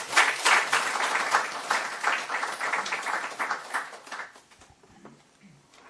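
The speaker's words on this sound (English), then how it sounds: "Please welcome Professor Teitel with the warmest applause." Warm audience applause welcoming a professor at a transitional justice conference opening, sustained full clapping from a large room that tapers off after about four seconds into a few scattered claps and near quiet.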